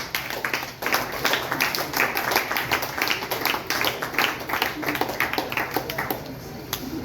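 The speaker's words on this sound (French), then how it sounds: "applaudissez-la s'il vous plaît" Audience at a book festival launch in Haiti applauds, a dense stretch of many distinct hand claps with a brisk, uneven rhythm, close and lively from start to end.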